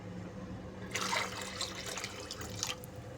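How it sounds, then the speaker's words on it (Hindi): Water poured from a tap or vessel over washed dal in a pot, a close, broad splashing rush that swells after a quiet start and continues steadily, with no talk. "इसके अंदर पानी डालूँगी।"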